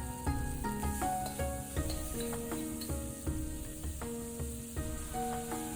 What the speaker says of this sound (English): add some ground pork, chopped garlic, and ginger paste. Break up the ground pork as much as you can